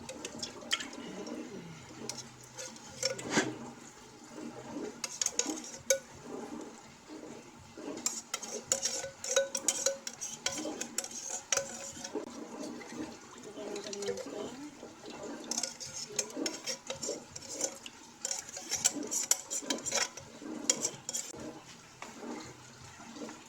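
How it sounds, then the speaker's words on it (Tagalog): Coconut milk is stirred in a cooking pot, a quiet, uneven run of spoon-against-pot scrapes and liquid sloshing, with some faint voices in the background. "Siyempre, haluin natin para hindi masunog."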